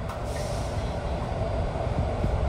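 A BART yellow line train bound for Antioch rumbles steadily along the track with a continuous low roar and faint wheel noise, heard from inside the car.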